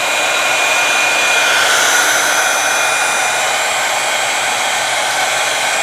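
A heat tool blows a loud, steady rushing hiss of hot air over candle wax, continuous and close with no voices.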